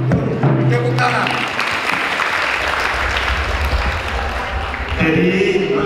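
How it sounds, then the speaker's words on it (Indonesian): Crowd at a Batak Siahaan clan Bona Taon New Year celebration in Bandung claps hands together in a thick, sustained wash of applause. Voices sound briefly near the start and end. "tepuk tangan."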